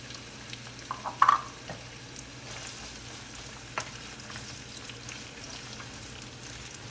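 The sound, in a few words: onions frying in oil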